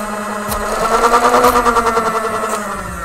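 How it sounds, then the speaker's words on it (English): The servo motors of a homemade robot Nerf gun whir up to speed and drone steadily, close and fairly loud, while faint sharp clicks mark each shot over about three seconds. "So when I put my hand over the ultrasonic sensor, the servos should rev up and then fire the weapon."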